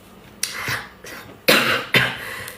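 Several sharp coughs in quick succession, close and fairly loud, with short pauses between them.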